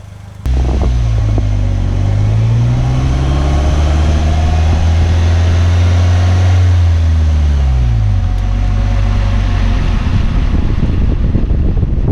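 A 2018 Polaris Slingshot SLR LE three-wheeler drives along with a loud, continuous engine drone that rises and falls in pitch as it accelerates and eases off, with wind rushing over the microphone and no talking.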